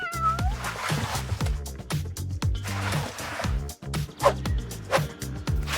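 A cat meows repeatedly in short, uneven calls, some drawn out into a caterwaul, loud and close over a steady backing of playful music.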